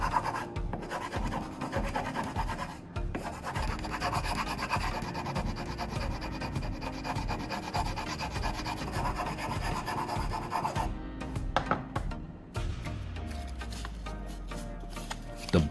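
A hand file, fitted in a handle moulded from sawdust and PVA glue, rasps steadily back and forth across metal in a continuous close scraping that breaks off briefly a few times.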